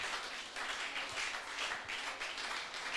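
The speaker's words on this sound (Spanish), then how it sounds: "Ese aplauso suena fuerte." Congregation applauding during a church service, a steady wash of many hands clapping together at moderate distance, continuous for the whole stretch without voices.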